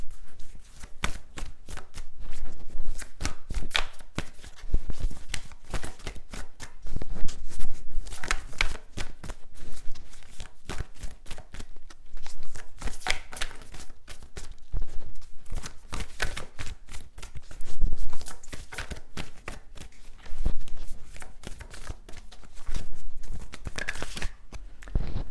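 A deck of tarot-style cards shuffled for a reading, continuous close riffling and flicking of card stock, steady and fairly loud with brief pauses.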